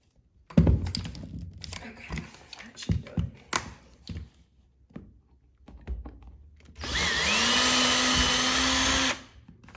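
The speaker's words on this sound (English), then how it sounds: "Helps if the drill bit is in the drill correctly." A power drill whirs steadily for a couple of seconds drilling a pilot hole for a doorstop, after scattered handling clatter and thumps, loud and close.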